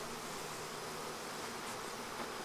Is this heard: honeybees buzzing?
yes